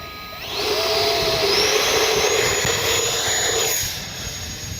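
A loud, high-pitched jet whine rises quickly and holds for a few seconds, then fades as a small Arrows Red Hawk 50mm RC jet takes off in wind and pulls away.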